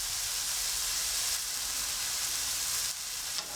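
Salmon pieces frying in a pan for a salmon, broccoli and pea risotto, giving a steady, close hiss of sizzling oil that runs on without pause.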